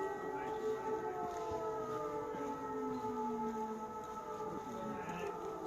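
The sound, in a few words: air raid sirens in Ukraine, prolonged and deep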